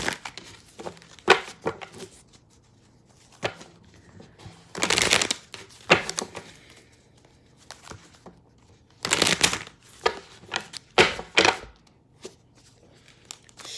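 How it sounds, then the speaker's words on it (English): Tarot cards are shuffled in several quick riffling bursts separated by pauses, close and crisp, with softer handling and tapping sounds in between. "Hold on, let me shuffle one more time."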